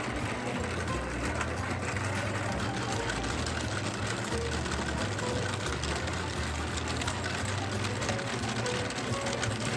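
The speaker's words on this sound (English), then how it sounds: "There was also a demo of this historic flat braid maker from the early 1900s, which was just so fun to see." Historic flat braid maker from the early 1900s, demonstrated at a large sheep and wool festival, braiding with a steady, busy mechanical clatter and rapid ticking under a dense crowd murmur throughout.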